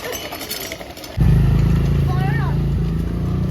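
A motorcycle passes close by during a Ulto Rath festival outing, its engine rising suddenly to a loud, steady low rumble, while people talk nearby.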